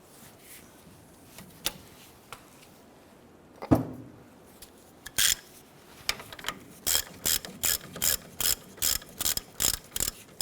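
A ratchet wrench loosens a caliper bracket bolt on a 1993–1997 Ford Ranger. A few scattered clicks and a clunk come first, then steady close bursts of rapid ratcheting repeat in a regular rhythm.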